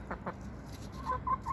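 Chickens being fed on a farm, a couple of quick clucks followed by a short run of higher clucking calls, close and fairly clear over low background noise.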